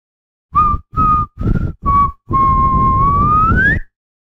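A man whistles a short tune in an audio horror story set in a morgue: four brief clear notes, then one long sustained note that rises at the end, loud and close with no talk.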